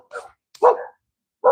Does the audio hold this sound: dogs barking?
yes